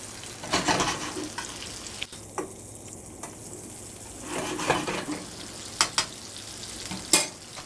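Salmon cooks in butter topped with herbs and spices, giving a faint, steady sizzle broken by a few sharp clicks and scrapes from the pan, with no talking.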